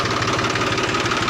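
A newly bought farm tractor idles with a close, steady engine rumble and an even knocking pulse, with no talk.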